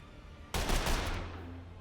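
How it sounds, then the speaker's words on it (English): A burst of gunfire from a weapon in the turn-based tactical game The Lamplighters League starts sharply about halfway in. It sounds like a loud, rapid volley of about three shots, and its noise fades over the following second. "I think we definitely just want to shoot it, just to see what it does."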